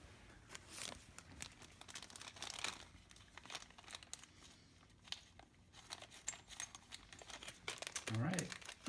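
Small rotary engine parts from a 1966 Brazil project car with a 13B peripheral port rotary engine are dropped into a plastic baggie, giving steady close crinkling and rustling of thin plastic in bursts over most of the stretch.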